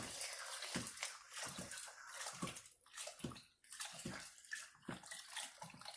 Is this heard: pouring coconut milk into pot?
yes